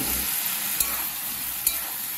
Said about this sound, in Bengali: এবার আমরা আলু সয়াবিন যেটা ভেজে রেখেছিলাম সেটা আমি দিয়ে দেবো